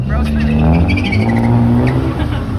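A car spinning at a car meet, its engine roaring and tires squealing in a sustained loud burst, with a crowd shouting and cheering over it.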